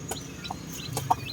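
Several short, soft clucks from young chickens kept for sale, scattered across a quiet background with one sharper cluck near the end.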